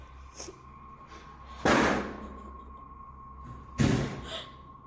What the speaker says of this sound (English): the door from the other room has slammed shut again